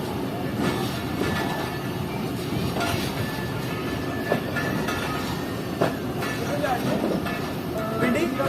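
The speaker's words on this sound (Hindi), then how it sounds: "ZCU 26412 के साथ ट्रेन डिपार्ट कर रही है सियालकोट जंक्शन रेलवे स्टेशन से।" A Shaheen Passenger train departs Sialkot Junction railway station with a steady, loud rumble of rolling carriages, faint clatter and occasional squeals running throughout.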